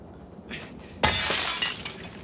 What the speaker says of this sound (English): Break glass with bricks, bottles,